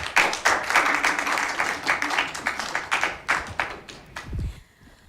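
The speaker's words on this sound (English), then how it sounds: "Clap for yourselves." Participants on a live TV hosting reality show clap for themselves, a dense burst of applause with sharp individual claps that thins out and stops near the end.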